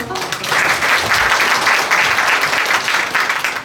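An audience applauds at author Baek Yun-nam's book launch, a dense, steady burst of many hands clapping close by that holds for several seconds.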